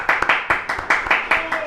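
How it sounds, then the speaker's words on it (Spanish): Audience applause welcoming a speaker at a talk, a burst of hand clapping with fast uneven claps, moderately loud and close, briefly filling the room. "vamos a recibir con un fuerte aplauso"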